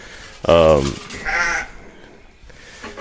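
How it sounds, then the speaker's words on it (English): A yearling sheep bleats loudly and with a quaver in a sheep handling system. A second, shorter bleat follows, with faint farm background after it. "This is a stubborn sheep here."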